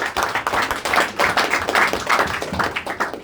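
A small group claps in a steady, close burst of individual hand claps for a speaker at an evening discussion with young Nigerians, continuing for about three seconds with no talk.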